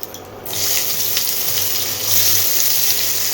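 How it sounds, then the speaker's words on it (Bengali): Dried red chillies and mustard seeds crackle and sizzle loudly in hot mustard oil, a steady, close frying hiss that starts abruptly and continues without pause. "শুকনো লঙ্কা দিয়েছি সর্ষের তেলে, একটু সর্ষে ফোড়ন দিয়েছি, মানে সর্ষে ফোড়ন দিচ্ছি।"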